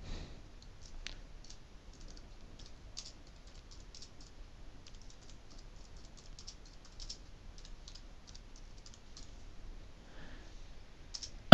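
Quiet typing on a computer keyboard while entering text in an Excel spreadsheet: faint, scattered key clicks and taps in a near-silent room.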